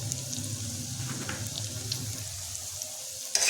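Ground chilli, turmeric and coriander powders frying in a kadai over a low flame, giving a steady, fairly quiet hiss and crackle with light scraping, close by and without talk.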